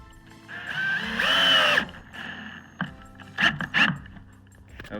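Cordless drill driving screws into a 2x12 board on a wooden raised planter box, a short whirring burst followed by a couple of quick pulses, close by with quiet gaps between.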